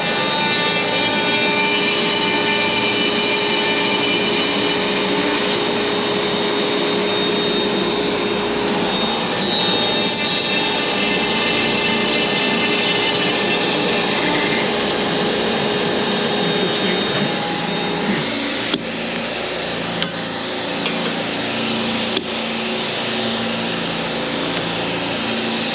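A ShopBot CNC router cuts 3/8-inch holes in push plates, a loud sustained high whine with tonal harmonics that drops off near the end, followed by a few sharp clicks.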